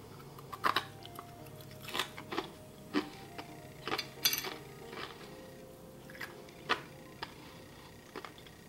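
Crisp crunching bites and chewing sounds of caramelized xylitol repeat close to the mic, each crackly snap followed by quieter munching in a hushed room.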